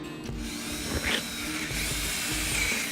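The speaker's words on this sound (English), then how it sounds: "I'm getting ready to drill a hole in my boat" A power drill bores a hole through a boat, a steady whirring grind that runs throughout at moderate loudness with small shifts in pitch as it bites.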